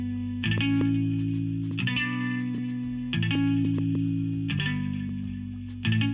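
Electric guitar through an amp simulator with hall reverb in Studio One, sustained distorted chords struck in a slow repeating pattern, each ringing out with a long reverberant tail.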